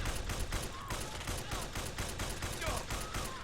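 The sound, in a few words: unsuppressed M1A rifle gunfire in video game Fallout 4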